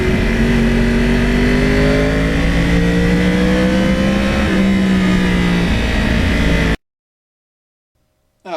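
A 2009 Yamaha R1 crossplane motorcycle on an old-school setup without traction control hums along at steady speed, its engine note drifting gently up and down through the gears before cutting off abruptly near the end.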